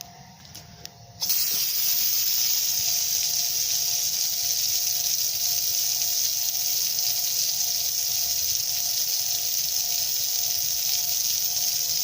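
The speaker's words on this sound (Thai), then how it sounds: "เดี๋ยวเราไปเปิดก๊อกดูนะครับว่าน้ำจะแรงขึ้นไหม" Water gushes from a tap opened after a water pump pressure tank repair, starting abruptly after a brief quiet moment and then running as a strong, steady hiss for about eleven seconds.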